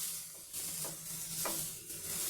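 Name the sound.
carrots frying for carrot halwa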